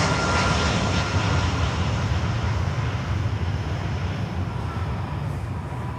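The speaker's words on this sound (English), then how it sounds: "American Airlines from Havana," An American Airlines jet from Havana, Cuba, at Miami airport produces a loud, steady engine roar with some wind rumble that eases slightly over six seconds, and no voices.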